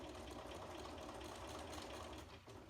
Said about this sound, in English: we're stitching this little stem down